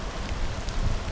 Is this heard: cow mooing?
no